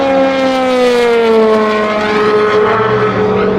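A G-Drive LMP2 prototype race car passes on track, its loud engine note holding steady then sliding down in pitch as it goes by, close and continuous with no talk.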